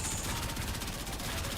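Rapid automatic fire from a Baza gun in Warframe rattles in a fast, even burst of closely spaced shots, steady and fairly quiet throughout.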